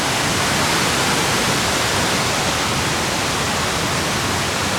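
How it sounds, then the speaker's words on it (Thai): Steady, loud, broadband rushing of a waterfall in the Iu Mien region of Fou Yuan, continuous and close with no pauses or voices. "น้ำตก"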